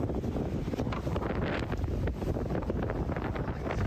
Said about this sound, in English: we woke up and it was blowing 35 knots